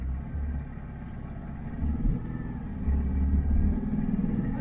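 A van engine runs a little fast just after a push start, giving a steady close low rumble that swells slightly in places, with no talk.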